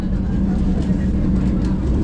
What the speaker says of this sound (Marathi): ते बघा धुक्यातून ट्रेन चालू झाली आहे धुक्यातून ट्रेन चालते आहे